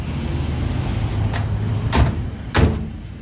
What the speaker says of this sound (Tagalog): Yan, sasarado ko guys yung pinto.